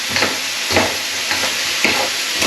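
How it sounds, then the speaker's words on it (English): Udon noodles sizzle in a hot pan as they are stirred with spicy chicken, a bright constant frying hiss broken by a few rhythmic scraping pushes of the utensil. "Just give it a stir around, get them noodles heated through"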